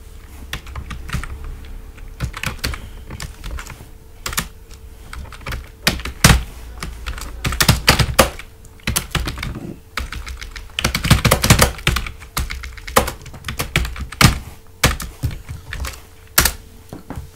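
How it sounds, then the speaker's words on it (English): Steady, brisk typing on a computer keyboard while values are entered for a Python tutorial, with uneven bursts of close, crisp key clicks and no talking. "Suppose I type here values separated by commas."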